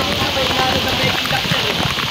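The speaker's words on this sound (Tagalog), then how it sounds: "Ang ulan." Steady heavy typhoon rain pouring down during a flood, a dense broadband hiss with patter on surfaces, continuous throughout, with faint voices underneath.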